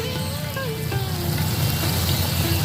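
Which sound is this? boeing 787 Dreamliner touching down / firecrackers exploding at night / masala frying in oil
masala frying in oil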